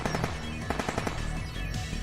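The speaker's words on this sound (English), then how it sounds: "they weren't ordinary guns, they were automatic weapons" Rapid bursts of automatic weapon fire from the Steins;Gate 0 visual novel, loud, dense overlapping shots rattling continuously through the whole moment, with no speech over them.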